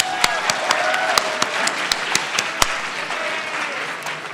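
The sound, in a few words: audience applause at poetry competition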